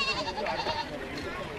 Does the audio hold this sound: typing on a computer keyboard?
no